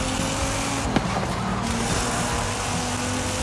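A Nissan GT-R R35 in the racing game Forza Horizon 5 roars loudly and continuously at high revs, with a brief gear-shift blip partway through and a steady engine drone throughout.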